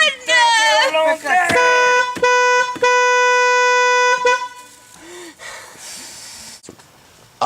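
A loud, sustained horn blares in several long blasts, with vocal snorting and gasping sounds mixed in, then fades to quieter rustling.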